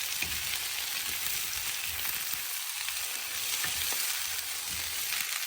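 Vegetables and cabbage stirred and fried in a pan on medium heat, a continuous sizzle broken by scraping, clattering stirring strokes at close range, with no voices.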